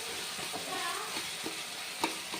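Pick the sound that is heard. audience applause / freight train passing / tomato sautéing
tomato sautéing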